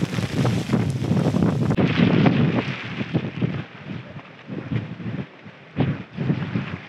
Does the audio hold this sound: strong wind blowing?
yes